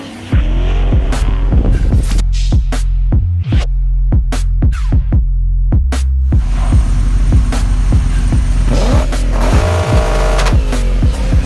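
Drift cars at an airfield, loud and close, with engines revving in rising and falling sweeps, punctuated by repeated sharp bursts and tyre noise throughout.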